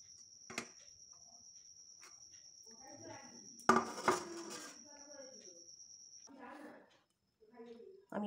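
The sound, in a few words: straining batter for ghevar sweet, utensils clinking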